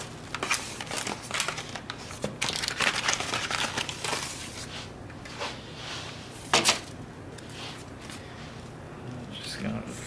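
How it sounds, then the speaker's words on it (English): Plastic keyboard cover being fitted onto an Apple MacBook Pro M1, with soft crinkling, tapping and small handling clicks spread through the clip and a sharper snap near the middle. "let's put on the keyboard cover,"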